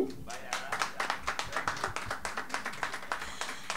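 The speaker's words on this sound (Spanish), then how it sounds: "Un fuerte aplauso, por favor." An audience at a panel discussion claps for the panelists. The sharp, separate hand claps come in a quick, fairly even rhythm from what sounds like a small group, with voices faintly underneath.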